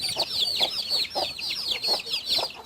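Mother hen Ahsen with her chicks, giving close repeated clucks in a steady rhythm with high peeping chirps from the chicks layered over them, no voices.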